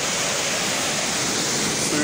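Steady, dense roar of rushing water, loud and continuous with no breaks, like standing right beside a waterfall.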